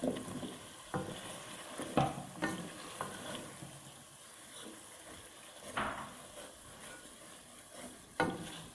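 Beef tahari frying in a pot, stirred with intermittent scrapes and knocks of a spoon against the metal over a soft, steady sizzle, fairly quiet and close with no talking.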